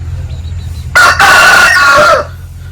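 A rooster of about three kilograms, lightly injured after winning a cockfight in Bhimavaram, gives one loud, close crow lasting over a second against a low background hum.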